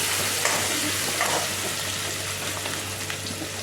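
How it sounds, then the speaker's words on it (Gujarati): Green chillies sizzle and fry in a hot pan with paste, a steady crackling hiss with a few soft stirring scrapes, close and alone. "લીલા મરચાં સંભાળી લીધા છે, આપણે એમાં મરચાં નાખી દઈશું."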